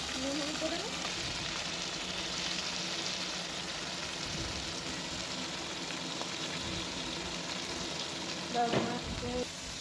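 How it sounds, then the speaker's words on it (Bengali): Bitter gourd sizzles steadily in hot oil in an iron wok, a constant close hiss with occasional spatters and a faint clink near the end. "এই দেখো এখন আমরা উচ্ছে ভাজাটা করছি"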